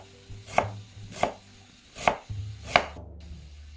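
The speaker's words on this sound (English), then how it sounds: "Now finely chop an onion" A knife finely chops an onion on a board, four distinct sharp chops at a slightly uneven pace, close and clear with no voices.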